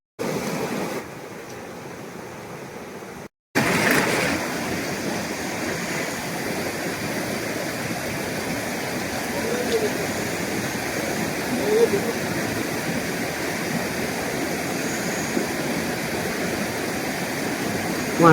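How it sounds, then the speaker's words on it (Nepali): A river in the Rungdung area near Badamtam flows steadily while someone wades across it at an unhurried pace, with a broad, continuous rush of water lasting throughout. "कुनै हतारै नगरी आरामसँगले उहाँ खोला तर्नु भइरहेको छ।"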